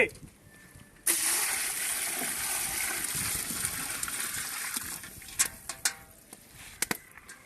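After a second of quiet, a steady gush of water pours close by for several seconds while cooking chicken biryani, then tapers into scattered drips and clinks.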